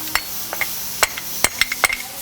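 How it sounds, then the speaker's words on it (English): Hammer tapping on a Ski-Doo 850 Summit snowmobile clutch to pop a pin out: a string of sharp, close metallic knocks at an uneven rhythm, with a quiet background and no talking. "Next step is you actually have to tap on these with a hammer."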